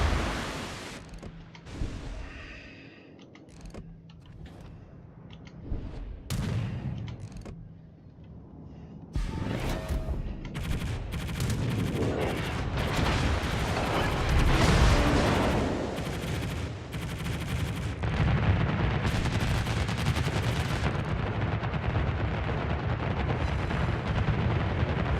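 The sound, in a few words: warship naval guns firing rounds in video game World of Warships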